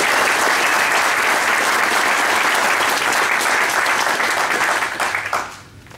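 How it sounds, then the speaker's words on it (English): An audience at a community meeting breaks into a loud, sustained round of applause with dense clapping throughout, which thins out and fades over the last second. "Give her a round of applause."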